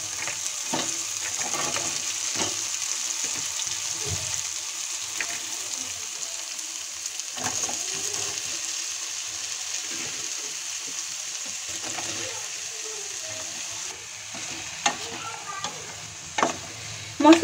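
Cut potatoes frying in spiced masala with green chillies, a continuous close sizzle with repeated stirring scrapes and clinks of a spoon against the pan, louder knocks at the very end, no voices.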